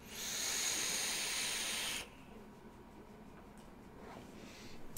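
Exhaled e-cigarette vapor, one soft breathy hiss lasting about two seconds, close and fairly faint, then quiet.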